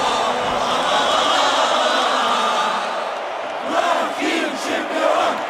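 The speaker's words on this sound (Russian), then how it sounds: "Трибуны скандировали имена своих героев." Football fans in a packed stadium roar and chant together, a dense, loud wall of massed voices with rising shouts and whoops near the end, continuous and fairly close.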